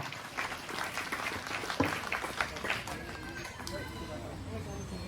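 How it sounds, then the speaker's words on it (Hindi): Crowd clapping loudly at a parish gathering for an Oran Raja Abhishek celebration, with scattered claps mixed into a babble of voices and chatter throughout. "जोर से ताली मारो"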